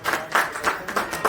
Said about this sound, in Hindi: जोरदार तालियां, बहुत खूब